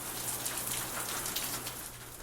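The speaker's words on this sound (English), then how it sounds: "Steady rain didn't help, but didn't stop the ML team either" Steady rain falls on the site where the wooden warship HMS Victory is berthed, a dense, even patter with no breaks or other sounds.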